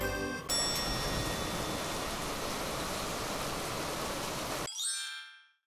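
Heavy rain pouring down during a stormy night and morning, a steady, dense hiss that holds evenly before cutting off abruptly.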